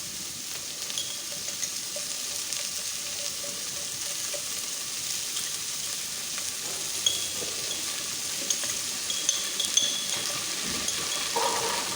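Oil poured into a hot wok for chicken chow mein gives a steady, close sizzle throughout, with a few faint clinks and splashes toward the end.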